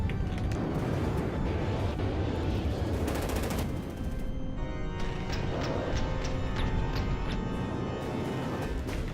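Explosions and rapid gunfire in the naval combat game From the Depths, dense continuous bursts of blasts and weapon fire layered together, loud and sustained throughout.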